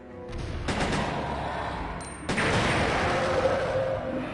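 A gas can explodes and kills a big crocodile in the 1998 Resident Evil 2 video game, giving heavy booming blasts with a sharp burst near the start and another about two seconds later, followed by a loud, rumbling roar.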